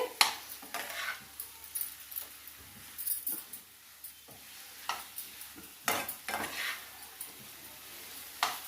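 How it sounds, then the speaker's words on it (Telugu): A spoon stirs potato curry frying in a pan, scraping and clinking against the metal in irregular strokes over a soft sizzle, close and moderately loud. "ఇలా కొంచెం పచ్చివాసన పోయేంత వరకు వేపుకోవాలి"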